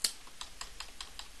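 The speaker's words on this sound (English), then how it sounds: "I can hit the apostrophe key on your keyboard" Keys on a computer keyboard are pressed while building sectors in the Eureka Doom level editor: a steady run of about seven crisp clicks, evenly spaced and close, with no talk.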